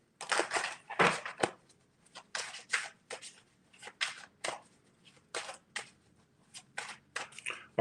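Tarot cards being shuffled close by, with quick papery riffles and soft slaps arriving in short irregular bursts separated by brief pauses; no voices are heard.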